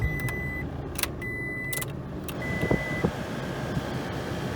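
A Toyota truck engine (2005–2014 model years) idles steadily with a low rumble, joined by a few sharp clicks and brief high whines.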